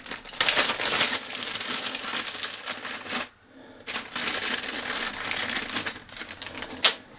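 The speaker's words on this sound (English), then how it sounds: "Gloves off, open the bag up." Plastic bag of replacement front axle bearings for a Hayter 41 mower being opened by hand, close crinkling and rustling in busy bursts with a brief pause midway.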